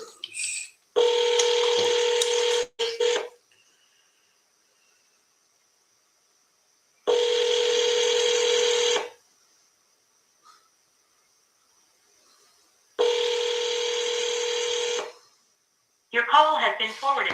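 Telephone dialing tones on a seller call: three long, loud steady tone bursts separated by silence, followed by a short burst of fluttering electronic sounds at the end.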